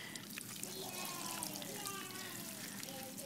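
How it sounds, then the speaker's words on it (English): Water runs into a Banzai Silly Splash chameleon sprinkler toy as it fills, a steady close trickle and splash under faint background noise. "So it's filling up with water."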